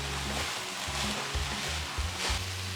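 Meat and shredded carrot sauté in a pan, a steady close sizzle with soft crackling and a few stirring bumps throughout.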